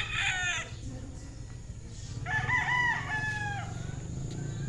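A rooster crows twice at a game farm chicken coop, the first call brief and the second longer and drawn out, heard over steady low farmyard background noise.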